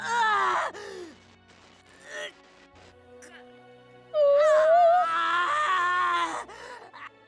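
Mathis, a young male character in the game Virche Evermore, screams in two anguished bursts, a short cry and then a longer strained scream, with faint groans between them and a quiet stretch in the middle.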